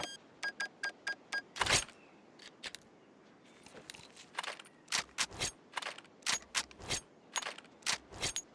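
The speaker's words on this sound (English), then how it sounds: "Bomb has been planted." A bomb is planted in Counter-Strike, heard as a quick series of sharp, close electronic clicks and beeps in irregular bursts against a quiet background.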